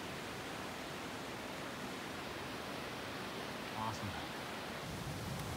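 A waterfall shooting over a cliff on a backcountry backpacking route roars in a constant broadband rush, heard from the side. A voice briefly speaks over it.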